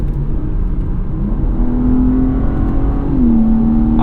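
A 2021 BMW M3 Competition engine holds a loud, steady, close drone that rises slightly in pitch partway through, with no one speaking.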